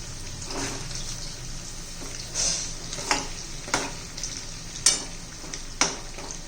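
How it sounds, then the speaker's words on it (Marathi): Poha cutlets fry in oil over a medium gas flame, a steady close sizzle broken by several sharp crackles and pops. "हे पहा मध्यम गॅसवर तळायचे आहेत आपल्याला म्हणजे चांगले खरपूस अशा होतात"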